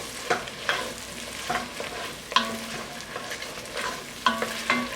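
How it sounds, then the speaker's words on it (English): Ketchup being stirred into a sizzling pig wing mixture in a pan produces a bubbling fry beneath repeated spoon scrapes and knocks in an uneven rhythm, close by. "I'm going to put it right on in there. And we're going to stir that all up too"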